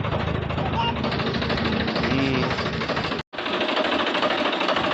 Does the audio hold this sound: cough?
no